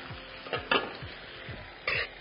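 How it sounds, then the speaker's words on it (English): Penne and peas stirred into a sizzling pan with a utensil, giving a few scraping strokes and clinks over a steady fry hiss, near and moderately loud. "Take some of the pasta and the peas straight into my pan."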